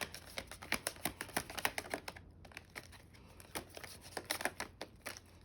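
Rapid papery flicks and riffles of tarot cards being shuffled repeat in quick bursts, a close, dry patter with a brief pause midway.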